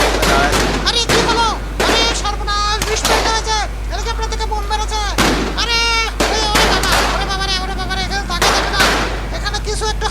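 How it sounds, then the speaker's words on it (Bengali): Helicopter gunfire in a Bangladesh bus driving video game on the BD Next Gen map, with loud, sharp bursts of shots spread through the scene over a dense bed of game sound and voices. "হেলিকপ্টার থেকে ভাই গুলি মুলি মারছে"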